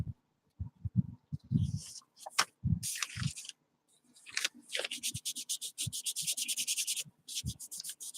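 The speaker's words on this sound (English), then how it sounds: "Get this rubbed down a little bit. I know I'm rubbing it in, Eileen." Painted paper tiles being rubbed down by hand, giving short scratchy rubbing strokes in irregular bursts that turn into a fast, even series of brisk rubs, close and fairly quiet.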